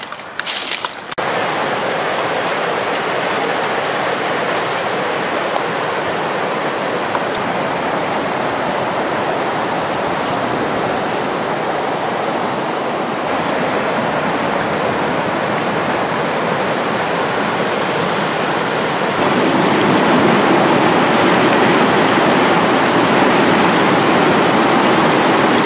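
The river Sieber flows steadily in a loud, continuous broadband rush of water heard close up, growing slightly louder near the end, with no voices.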